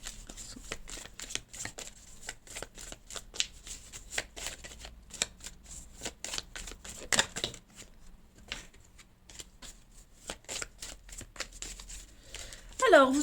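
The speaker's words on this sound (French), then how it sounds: "J'ai toutes mes cartes qui tombent." Tarot cards spill and are gathered back up, giving a long run of quick, close, papery flicks and rustles that come in clusters with short pauses, and a brief voice near the end.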